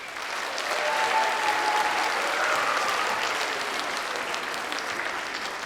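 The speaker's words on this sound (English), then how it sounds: "So a round of applause for our wonderful SMS staff." An audience at a school band and chorus spring concert claps steadily, a warm wash of applause that swells early and holds at an even level to the end.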